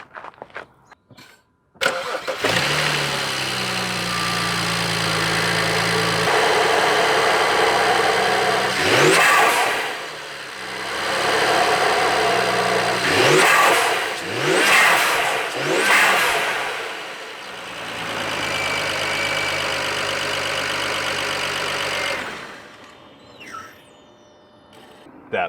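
BMW 335i with a newly installed charge pipe and no airbox fitted, cranking to life then settling into a steady idle broken by several sharp revs, loud and close with no talking.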